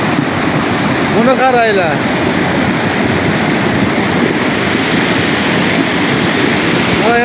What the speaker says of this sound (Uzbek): Daryoni qaraylar, bir daryo suv mana